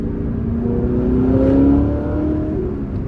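Chevrolet Corvette ZR1 fitted with an AWE exhaust, its engine holding a smooth, steady drone with a gentle rise and fall in pitch, close and continuous with no talking.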